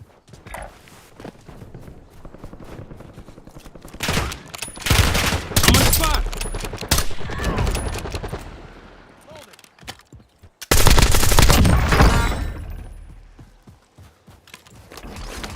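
Sniper gunfire in a video game, sharp shots and bursts of firing in clusters with quieter gaps between them, loud and close over game ambience.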